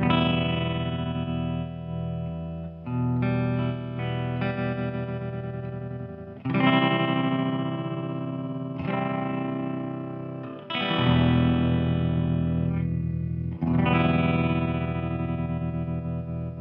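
Modulation effect from the Neuro app set to extreme speed settings, applied to sustained synth or guitar tones: several held, buzzing harmonic notes with wobbling, ring-modulated character, changing every few seconds, loud and upfront with no talk.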